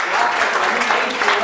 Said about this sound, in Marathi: लक्ष्मी नारायण, त्याच्यासाठी जोरदार टाळ्या द्या.